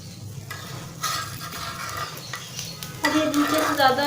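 Sweet bread dipped in egg batter frying in shallow oil, with a steady close sizzle and spatula scrapes against the pan that grow louder and brighter near the end as the slice is turned.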